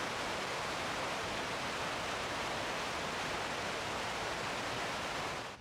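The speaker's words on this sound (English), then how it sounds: "It's a 300-meter long rapid." A 300-metre-long river rapid on the Fossestien waterfall trail, a dense, unbroken roar of rushing water that stays loud and even throughout, with no other sounds.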